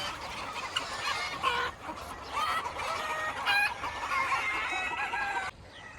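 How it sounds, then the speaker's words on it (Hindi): Several local chickens in Qatar cluck and squawk in bursts close by, with a rooster-like call rising among them over steady outdoor background noise. "देखे तो मुर्गी सब पूरा लोकल मुर्गी सब है ये"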